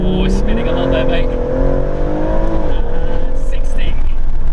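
A hot hatch launches hard from standstill with its wheels spinning, the engine note loud and close as it climbs, dips and rises again, while people talk over it.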